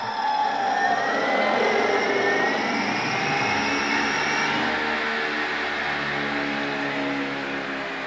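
The 48V 1500W electric motor of a converted quad spins up freely with no chain fitted, giving a continuous whine that sweeps upward in pitch and holds steady, fairly loud and close.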